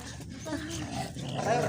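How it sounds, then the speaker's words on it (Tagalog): A dog growls low and rumbling at close range, mixed with some faint noisy background. "Nakakatakot yung aso"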